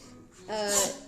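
A single sharp sneeze, fairly close, with a brief intake before a loud explosive burst that quickly fades.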